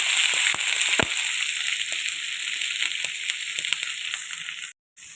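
Chopped onions, two large ones, sizzle steadily in hot oil with cumin seeds in a pan, a loud continuous frying hiss with small crackles and a few sharp clicks, ending in a brief silence.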